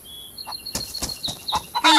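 A rooster in the DayZ video game gives a run of sharp, clucking calls, four or five clipped bursts at close range. The last call is louder, and no one speaks.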